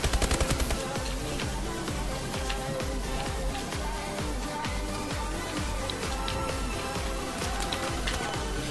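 Rapid video game gunfire rattles in quick repeated bursts throughout, opening with a few sharp loud shots and continuing as a steady stream of fairly quiet automatic fire.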